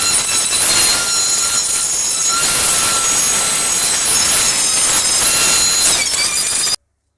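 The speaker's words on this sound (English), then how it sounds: "Now I'm going to sand it" Steady, continuous sanding across a pallet-wood trunk top, a dense, bright abrasive hiss that holds at an even level with no pauses, close and loud, until it cuts off abruptly at the end.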